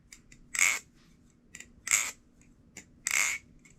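LDY Orion being handled up close in a quiet room, giving three short metallic swishing bursts with a few fainter clicks between them.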